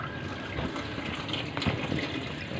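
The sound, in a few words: tap water rinsing a Carrier Optima air conditioner filter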